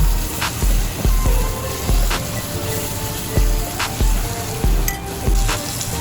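Lemongrass and coriander root fry in a pot as the base for a beef soup. A loud, steady sizzle is broken by repeated stirring scrapes and sharp clinks of a utensil against the pot.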